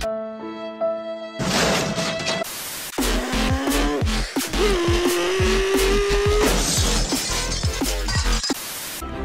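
A car drives in Roblox, its engine whining with tonal revs and noisy, static-like road roar, with thumping impacts through the drive.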